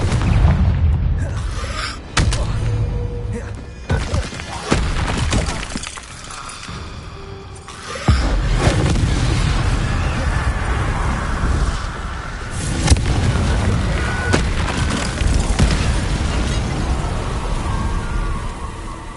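Confringo blasting spell exploding in the Hogwarts Legacy video game, a string of loud booming blasts and rumbling bursts with debris-like crackle, recurring over a busy game soundscape.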